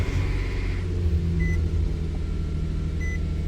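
A 2019 Nissan Frontier Pro-4X truck engine running at idle, a steady close low rumble throughout, with a few short electronic chime beeps over it.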